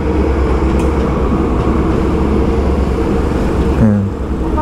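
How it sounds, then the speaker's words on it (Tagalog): A PNR commuter train pulls into a station, a loud steady rumble of wheels and engine filling the scene, with a brief low horn-like tone near the end as it arrives. "Yan, nandiyan na yung tren."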